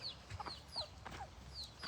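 Baby chickens give small, faint, high peeps several times in quick succession, with soft clucking in the background.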